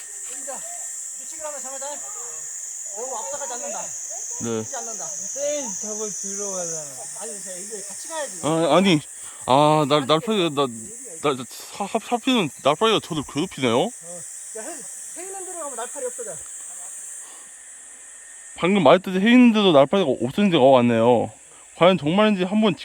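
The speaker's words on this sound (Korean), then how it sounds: "주변에 매미 소리가 한창 들리네요." A steady high-pitched cicada drone on a mountain hiking trail runs throughout, with a person talking on and off over it.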